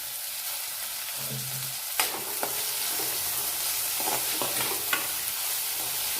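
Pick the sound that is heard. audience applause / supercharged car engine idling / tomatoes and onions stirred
tomatoes and onions stirred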